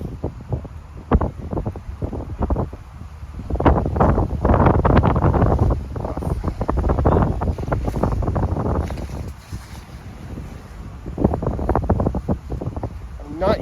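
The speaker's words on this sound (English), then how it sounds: "It is a windy ass day" Gusty wind buffets a microphone outdoors on a Toronto street in February, loud low rumbling bursts that swell and fade, with someone talking intermittently underneath.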